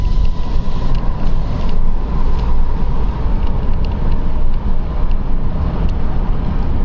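Loud, continuous wind roar buffets a microphone inside a moving car with the windows rolled down, steady broadband rushing with road rumble underneath, no speech.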